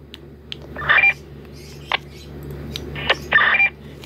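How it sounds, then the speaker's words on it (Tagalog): A two-way radio linked to a repeater gives short roger-beep tones, two longer bursts and a few brief clicks and blips, over a steady low hum with no talk. "Naririnig nyo yung Roger Beep?"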